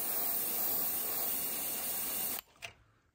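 Paint is sprayed through a stencil onto a fishing lure to texture a gizzard shad pattern, a steady close airbrush hiss lasting over two seconds before stopping abruptly, followed by a brief faint puff.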